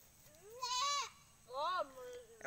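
A baby goat bleats twice, quavering cries close by, with a short pause between them and a voice starting at the end.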